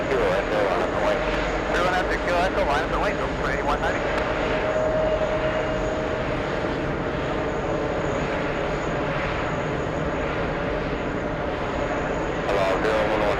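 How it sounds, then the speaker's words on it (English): A jet airliner pushing back from gate 1 at terminal 5, a continuous loud engine roar and whine filling the whole stretch, with a voice speaking over it. "we have this one pushing from gate 1 at terminal 5"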